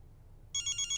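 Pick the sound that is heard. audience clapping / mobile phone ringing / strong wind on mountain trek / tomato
mobile phone ringing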